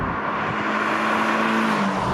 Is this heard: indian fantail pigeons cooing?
no